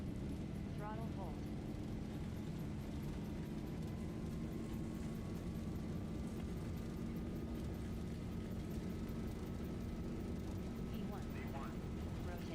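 Airliner jet engines spooling up to takeoff thrust in a flight simulator, with a steady rising whine over a broad rumble that holds for the whole stretch, fairly faint, with pilot callouts spoken over it.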